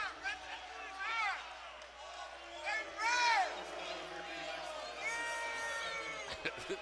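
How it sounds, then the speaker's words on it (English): A basketball crowd at a George Washington vs La Salle game jeers the officials after a foul, with scattered shouts and rising yells over a low murmur of the arena. "Crowd letting the officials have it."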